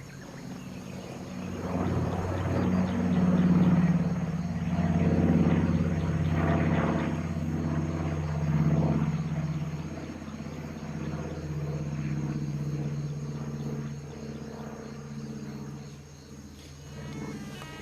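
Military aircraft drone overhead in a low, rumbling propeller-like hum that swells and fades gradually over nearly twenty seconds, moderately distant.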